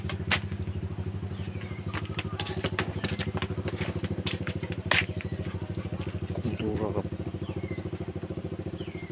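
A noisy motorcycle engine idles outside a house, a steady close rumble running throughout with rattling clatter and a brief thump near the middle.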